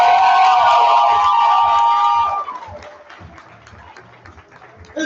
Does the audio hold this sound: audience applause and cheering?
yes